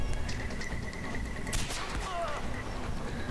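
Gunfire during a fight with a heavy enemy in a Far Cry video game mission: a few scattered shots, then a loud burst of rapid fire midway, over ambient game noise.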